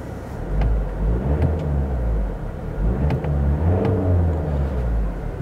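Skoda Octavia 2.0 TDI diesel engine revving, a deep steady rumble that rises and swells in several repeated surges close up, with no voices.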